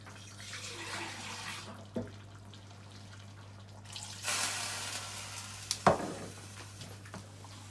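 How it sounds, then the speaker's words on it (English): Water poured into a pan of simmering beef goulash, a splashing pour that swells in bursts over a steady low hum, with a sharp clink midway and no talk. "I'm just going to add another wee half pint of water into the beef."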